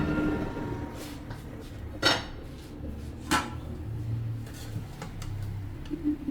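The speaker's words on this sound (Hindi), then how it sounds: "चलिए जी डिश आउट करते हैं चावलों को" Mutar chawal, cooked pea rice, being served from a pot, with a few sharp metal utensil clinks and scrapes over a low steady kitchen background, nearby and moderately loud.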